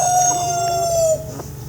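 Laying hens at a small farm with 125 birds: a steady, loud, droning mix of clucking and calls with a long sustained cry through most of the stretch, dropping quieter near the end.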